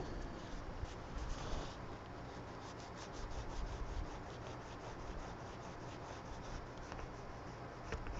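A handheld sharpener works steadily at close range in a mixed media art session, giving a continuous soft scraping, rubbing rasp with slight rhythmic strokes and no talk.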